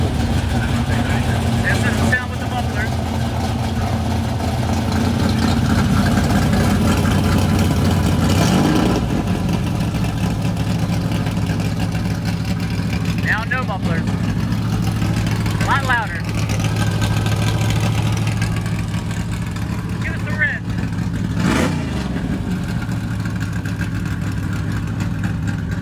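An original 1969 Chevrolet Camaro Z28 drag car idles with its mufflers engaged, a loud, steady, rumbling V8 lope that holds throughout with a few faint blips, while people chat nearby.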